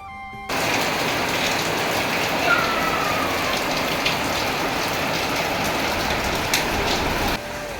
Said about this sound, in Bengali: সেই দুপুর থেকে একভাবে বৃষ্টি হয়েই যাচ্ছে দেখো